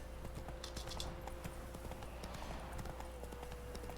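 The horse Roach trots in the video game The Witcher 3, a steady rhythmic clip-clop of hooves, fairly faint, over a constant low ambient hum.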